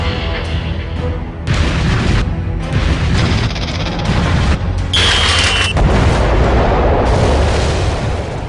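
A huge, sustained rumbling blast from the Manhattan Project atomic bomb test in the New Mexico desert, a dense roar of booming surges and crackling bursts that stays loud throughout.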